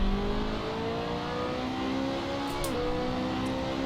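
A race car engine revs and drones in the Assetto Corsa racing game, a steady mid-pitched engine tone with shifting harmonics and a brief dip like a gear change, no talk over it.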